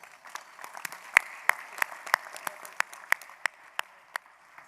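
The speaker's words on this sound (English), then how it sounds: "Please, a round of applause for them." Sparse applause at a keynote luncheon for the committees and volunteers, a scattered patter of hands with distinct sharp individual claps standing out at a fairly even pace, fairly quiet and fading toward the end.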